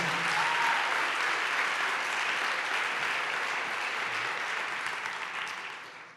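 A church congregation claps loudly and continuously for several seconds, a dense wash of applause that fades out at the end.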